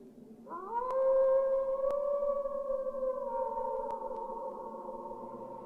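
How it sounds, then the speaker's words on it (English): A lone dog's long, sustained howl rises and hangs in the air on a mountaintop at night in an animated film, one drawn-out mournful call that slowly sinks in pitch, loud and close with no voices. "the universally lonely sound of a dog's howl"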